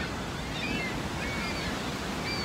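Falling water at Niagara Falls by the Cave of the Winds makes a steady broadband roar, constant and distant-sounding, with a few faint high chirps above it and no talking.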